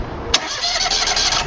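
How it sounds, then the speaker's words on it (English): Engine of an Amtex Inferno 2011 carpet extraction machine cranks and catches with a sharp burst, then settles into a steady, loud running drone close by, with no voices. "As you're cranking the engine, open the choke, take a look."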